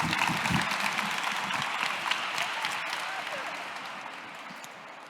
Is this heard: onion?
no